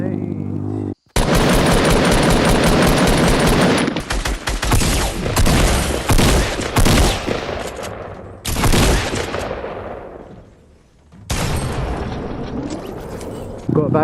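Gunfire in the Fortnite video game, dense bursts of rapid automatic shots with booms, loud and continuous in long stretches separated by brief gaps.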